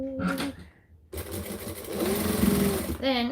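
A sewing machine stitches a pocket down on a garment, running in one steady, close whir for about two seconds between stretches of talk.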